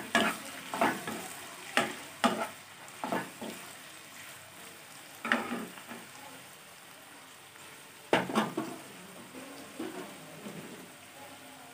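Soybean chunks get tossed and stirred into a frying pan for a bottle gourd curry, giving repeated bursts of scraping and sizzling at irregular intervals, fairly quiet and without talk.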